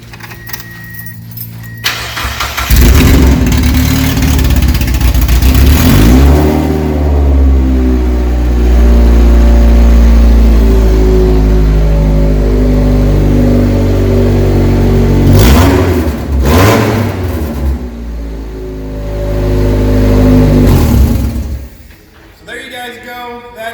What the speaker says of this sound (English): All right, let's crank her up.